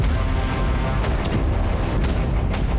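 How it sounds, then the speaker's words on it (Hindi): Explosions and air defense fire at night over Bushehr, Iran: a dense, continuous low rumble broken by several sharp distant bangs in quick succession. "ईरान में लगातार छठे दिन धमाके हुए।"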